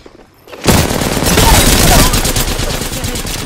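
Dense automatic gunfire erupts suddenly in a shooter video game and keeps up as a loud, continuous rattling fusillade after a brief quiet start.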